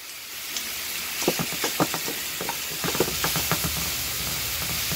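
Ground turkey sizzles in a hot frying pan during a bell pepper stir-fry, a steady hiss broken by a series of sharp spattering pops clustered in bursts, close and moderately loud with no talking.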